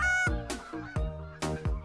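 Geese honk in the Call of the Wild hunting game as a flock comes in: about five loud, nasal honks in an irregular sequence, close by, with no talk.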